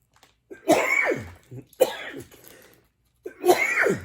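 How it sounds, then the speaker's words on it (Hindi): A man coughs three times in separate bursts, close and fairly loud, with short silent pauses between them. "जब कैमरे के सामने आता हूँ खांसी शुरू हो जाती है"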